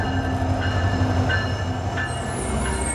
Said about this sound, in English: We hop on the train outside Denali